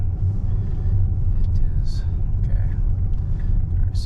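A 2020 Tesla on Full Self-Driving beta rolls along with a steady low cabin rumble of road and tire noise, a few faint clicks and chimes on top, and someone talking over it.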